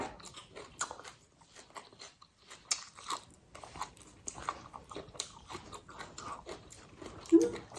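Close, crisp crunching and chewing of squid with bean sprouts and papaya salad dressing, irregular bites and mouthy crackles repeating over several seconds, with faint talk in the background.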